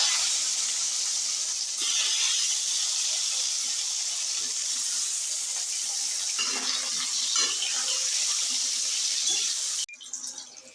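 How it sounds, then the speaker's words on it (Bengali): Brinjal pieces rubbed with salt and turmeric fry in oil, producing a loud, continuous hiss and sizzle that carries on evenly before cutting off abruptly near the end, and no one speaks. "তেল দিয়ে দিচ্ছি বেগুনগুলো ভেজে নিচ্ছি"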